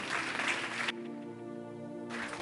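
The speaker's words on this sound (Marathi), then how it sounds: "जरा जोरदार टाळ्या प्रभूच्या गौरवासाठी" A church congregation at a Marathi communion service claps loudly in praise, a dense burst of applause at the start that breaks off, with a sustained tone in between, then swells again briefly at the end.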